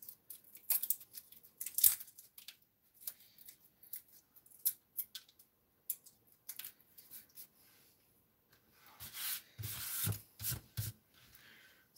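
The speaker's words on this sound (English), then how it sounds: "So you peel the garlic." Garlic cloves peeled by hand in a home kitchen: scattered dry crackles, papery tearing and rubbing, with a louder cluster of rustling bursts near the end, close and fairly quiet.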